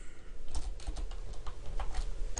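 Code is typed on a computer keyboard in quick, uneven bursts of close, crisp key clicks, with no voices.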